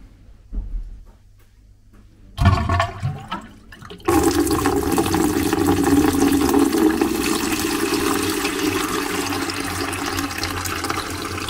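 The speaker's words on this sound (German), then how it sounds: "sollte eigentlich hier oben Wasser rauskommen." An Aqua Medic DC Runner 1.3 pump starts up and pushes water through PVC pipes for a saltwater aquarium. A few faint handling knocks come first, then a steady, loud rushing and splashing of water runs to the end.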